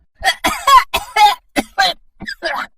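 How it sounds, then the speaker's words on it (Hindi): A man coughs hard and close, a rapid string of harsh barking coughs, then a short pause and a couple more. "वो जोर जोर से खांसने लगा।"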